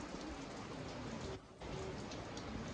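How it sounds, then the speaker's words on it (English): Steady heavy rain pours down around a truck trailer and runs off its curtains, a dense, even outdoor wash with no pauses. "if we look out beyond, you can see all the rain coming down"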